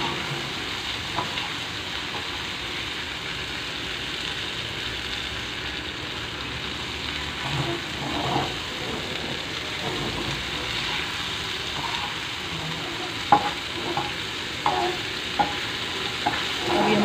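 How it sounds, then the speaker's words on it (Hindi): Okra (bhindi) fries on a tawa griddle over a gas stove, giving a steady low sizzle with scraping stirs and a few sharper clinks near the end. "इसको तवे पर ही फ्राई करें तो बहुत अच्छी बनती है।"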